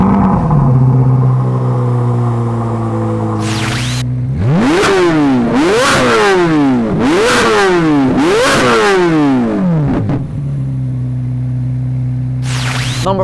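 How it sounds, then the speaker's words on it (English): A 2023 Chevrolet Corvette Z06 engine idles with a deep rumble, then gives four sharp rising revs in a row before settling back to a steady idle. It is loud and close, with no talk. "it also has the best sounding remote start system on the planet"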